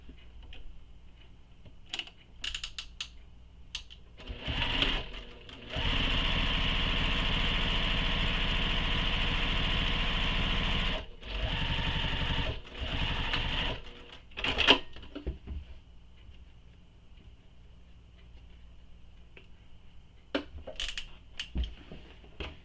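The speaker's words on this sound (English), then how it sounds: "So we're going to sew just under here." A sewing machine stitches just beneath the binding trim of a commuter tote bag, a steady run of a few seconds followed by shorter bursts, with quiet handling noises before and after.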